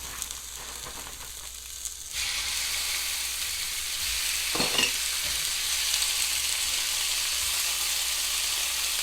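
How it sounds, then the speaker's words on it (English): Steak goes into a pan preheated to medium-high for tacos. After a quieter start, a loud, steady sizzle breaks out, with a brief scrape of the meat being moved partway through. "Get your pan preheated to a medium-high heat and get the steak in there."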